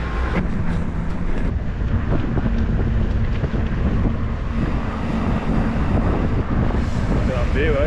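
A breeze blows across an outdoor microphone on a cloudy hill near Pooley Bridge and Orton, making a continuous low, buffeting rumble with gusty fluctuations throughout.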